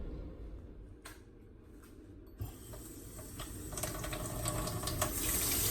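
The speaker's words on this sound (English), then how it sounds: "So let's go ahead on and take our squash over to the sink, wash them so we get ready to cut them up" Kitchen sink tap runs steadily over squash being washed, a broad continuous rush that builds louder toward the end, with a few soft clicks and knocks mixed in and no talking.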